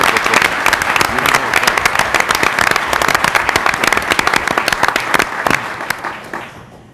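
A San Francisco audience at a 2011 mayoral candidates' debate breaks into loud, sustained applause, dense clapping that rolls on for several seconds before tapering off at the end.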